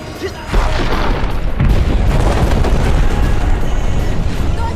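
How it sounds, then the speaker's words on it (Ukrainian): A bomb explosion hits its target in a cinematic jet action scene, a loud, dense booming roar that sustains throughout with rumbling low end, heard up close. "Скидаю бомбу, скидаю бомбу!"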